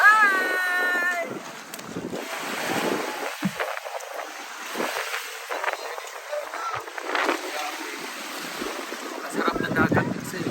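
Waves wash and break nearby on a Palawan beach, with gusty wind buffeting the microphone while people talk and exclaim over the surf.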